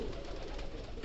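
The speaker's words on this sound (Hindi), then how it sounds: "ये पंजाबन कबूतरी है।" A female pigeon coos softly and low against a steady background hiss, a brief murmuring call.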